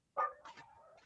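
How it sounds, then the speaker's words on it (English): A dog gives a single sharp bark followed by a couple of softer whining yips, faint and somewhat distant, heard over an online meeting call. "whose dogs are barking"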